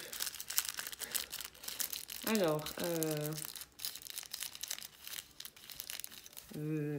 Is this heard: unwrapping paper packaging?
yes